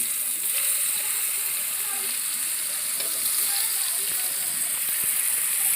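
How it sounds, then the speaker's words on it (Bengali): Cauliflower frying in a pan as part of a chicken and cauliflower dish: a steady, dense oil sizzle runs throughout, with faint stirring and scraping noises mixed in. "ফুলকপিটা আমি ভেজে নেব।"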